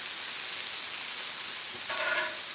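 Frozen tater tots frying on a Blackstone griddle give a steady, even hiss of sizzling oil that swells slightly toward the end, with no talk.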